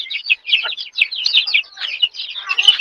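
Free-range village chickens cluck and chatter close by in a quick, uneven run of short calls, loud and clear against an otherwise quiet background.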